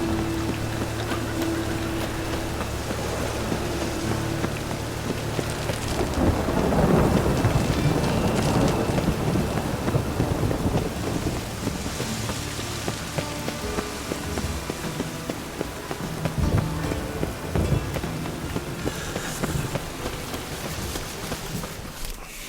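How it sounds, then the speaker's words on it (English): Thunderstorm in The Witcher 3: Wild Hunt, a steady hiss of heavy rain on surfaces with a low rolling rumble of thunder swelling midway, continuous and without talk. "A storm, damn it."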